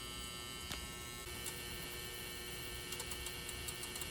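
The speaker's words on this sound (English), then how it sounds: "I'm going to turn the ultrasonic cleaner off" An ultrasonic cleaner runs with a jewellery piece inside, giving a steady electric hum and buzz that holds evenly throughout at a low, constant level, with faint ticks near the end.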